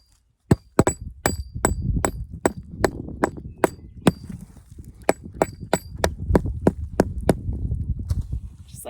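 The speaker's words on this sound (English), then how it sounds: "I just use a rubber mallet and pound it in the rest of the way" Rubber mallet pounding a roughly 12-inch garden stake through weed cloth into the ground, a steady series of about twenty sharp, evenly spaced thuds close by, with no talk.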